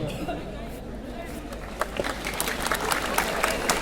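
Scattered audience clapping during a Hindi mimicry and song performance, a few sharp claps rising over a noisy crowd with voices heard in the background.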